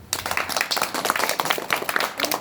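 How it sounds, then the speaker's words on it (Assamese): A school audience claps together after a seventh-grade student's homemade table fan is presented, a dense, steady patter of many hands filling the whole stretch at moderate volume. "সকলো হাত চাপৰি দিয়া"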